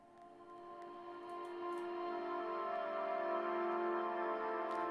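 A dry Omnisphere synth preset, with only EQ cutting the low end, plays a slow sustained melody of layered tones that swell gradually louder and hold steady, alone.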